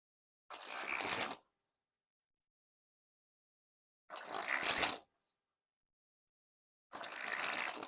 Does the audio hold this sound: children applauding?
no